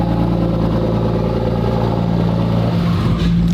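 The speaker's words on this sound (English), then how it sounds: "That's a real cold start. This kind of defies the odds for being turbo. This is pretty loud." A turbocharged car engine runs loud and steady right after a cold start, its low, even drone close up and continuous throughout, with a slight dip near the end.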